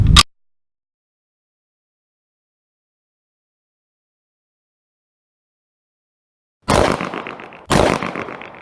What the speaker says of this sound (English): Alright, it's first 10 rounds of SIG ammo.